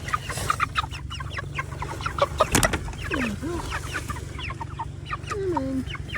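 Meat chickens in a farm chicken tractor cluck and chirp in scattered bursts, with a few rising peeps over steady low background noise; a brief louder rustle or bump occurs midway.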